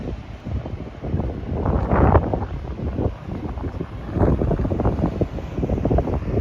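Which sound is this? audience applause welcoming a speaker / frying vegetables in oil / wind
wind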